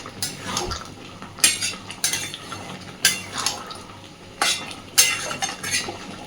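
Soybean curry being stirred in a pan: a spoon scrapes and knocks against the metal in regular strokes roughly every second, close up, over a soft steady sizzle with no talking.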